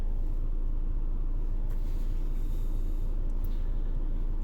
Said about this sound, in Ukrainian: рівно працює двигун, обороти зафіксовані